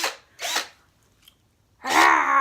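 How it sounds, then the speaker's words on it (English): A drill aimed at balloons whirs in two short bursts, then after a pause revs up again with a sustained high-pitched whine; no balloon pops stand out clearly. "I'm gonna pop them with this drill"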